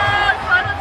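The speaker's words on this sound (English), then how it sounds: "Do you hear the crowd too? Because the crowd on the other side can see it." Baseball crowd at Wrigley Field, a brief, broad roar of many voices reacting together, steady and full before cutting off abruptly.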